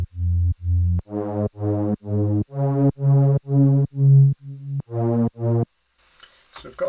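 A house-track bass synth runs through Serum reverb, pulsing under sidechain from the kick in a string of evenly spaced, punchy notes. It plays alone, loud and upfront, then drops out near the end to a faint tail.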